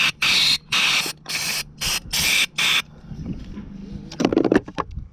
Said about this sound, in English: Get that spray going.